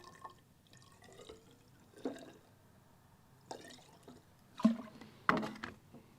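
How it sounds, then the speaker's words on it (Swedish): Modern petrol being poured into a small container holding about 10 millilitres of water, soft intermittent splashes and trickles with a few sharper liquid drops and clinks near the end, quiet and close. "Sen tar vi lite modern bensin och fyller upp med."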